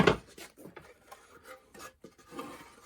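Hand scraping on the rounded wooden top of an archtop guitar being carved, a string of short rasping strokes, close and fairly quiet, with a louder scrape at the start.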